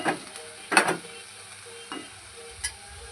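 A coconut filling for karanji is stirred and mixed in a pan, with a soft sizzle underneath and a few scraping stirs scattered across the moment, close and fairly quiet.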